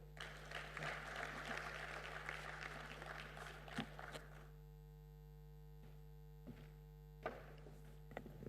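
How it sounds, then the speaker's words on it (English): Audience clapping after a speech at a formal event, fairly faint over a constant electrical hum, dense for the first few seconds and then thinning to scattered claps. "Don't get tired of clapping."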